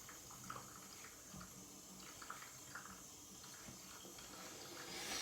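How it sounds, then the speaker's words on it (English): A bathroom tap runs steadily to wet the face before a shave, a quiet, even stream of water splashing into a sink that swells slightly near the end. "So yeah, gonna wet the face."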